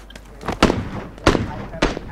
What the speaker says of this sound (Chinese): 哪里开枪？哪里开枪？